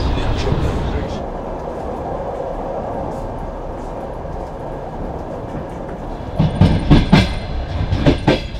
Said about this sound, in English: We are on MSF medicalized train.